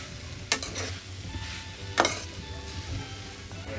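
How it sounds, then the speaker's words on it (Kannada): Vegetables for pasta fry in oil with a soft, steady sizzle, and two sharper clacks from stirring against the pan stand out above it, close and fairly quiet with no talking. "ಇದನ್ನೆಲ್ಲ ಮಿಕ್ಸ್ ಮಾಡಿ ಸ್ವಲ್ಪ ಹಾಗೆ ಈ ವೆಜಿಟೇಬಲ್ಸ್ ಜೊತೆ ಫ್ರೈ ಆಗೋಕ್ಕೆ ಬಿಡ್ತೀನಿ"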